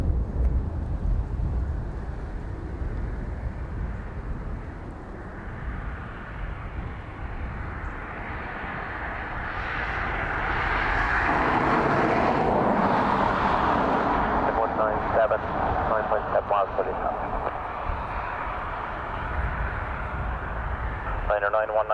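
A passenger airliner landing on runway 28 left at Dublin Airport, a broad roaring engine rumble that swells toward the middle and fades slowly, heard from a distance beneath ongoing speech.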